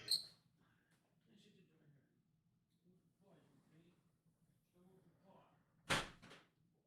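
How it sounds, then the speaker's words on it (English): A door is shut nearby with one sharp, loud thud late on, preceded by quiet movement and a soft knock, while faint speech murmurs in the background. "Let me just shut my door quick."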